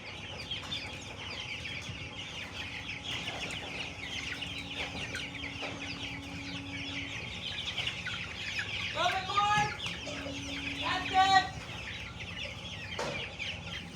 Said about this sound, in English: chickies are in the schooner